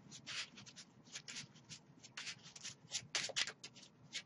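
A deck of trading cards for a Pendulum Magician Zarc deck is shuffled by hand quickly, giving a series of rapid, close papery riffling and rubbing bursts with brief gaps between them.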